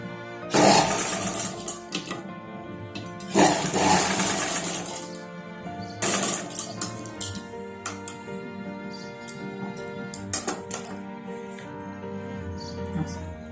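Sewing machine stitching a four-tuck blouse, with loud bursts of rapid needle clatter that start and stop repeatedly, separated by quieter pauses filled with faint clicks and handling sounds.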